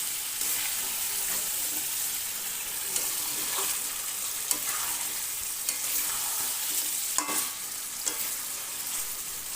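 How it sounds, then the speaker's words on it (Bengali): Chicken and potatoes frying in a pan as hot water is poured in, giving a steady close sizzle with faint stirring clinks and a few brief sharper spatters, no voices. "মাংসের সাথে আলু ভালো করে কষিয়ে নিলাম। এবার এতে দিয়ে দেব গরম জল।"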